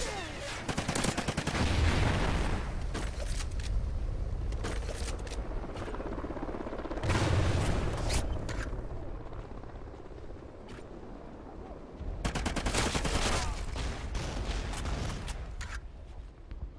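Gunfire rattles in a squad-based video game battle for capture points, with several loud, dense bursts of rapid automatic shots separated by quieter stretches of rumbling background.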